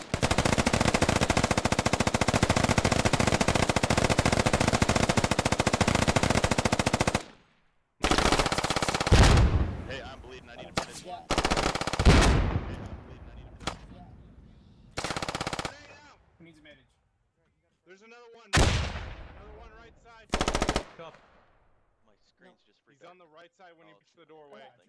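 A G3 rifle fires full auto in the video game Squad, a long sustained loud burst, then several shorter bursts and single shots with gaps, with radio-style voices heard alongside.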